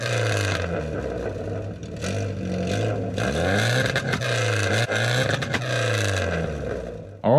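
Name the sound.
Ford Escort Mk2 exhaust popping flames on launch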